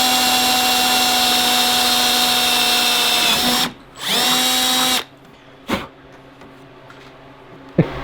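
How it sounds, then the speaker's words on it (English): A power drill with a 3/16 bit, drilling rivet holes for a rear bumper on a 2020 Polaris PRO RMK, whines loudly at a steady pitch, stops briefly, whirs again, then cuts off, leaving quiet with a couple of short clicks. "we have to drill out all the holes for the rivets"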